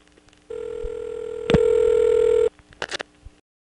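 A ringback tone on a long-distance call from a Florida, NY step-by-step telephone office sounds as one steady ring. Partway through it jumps to a louder ring, then stops abruptly, followed by faint clicks and a brief rattle.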